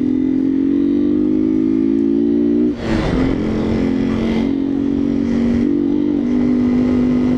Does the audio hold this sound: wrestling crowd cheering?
no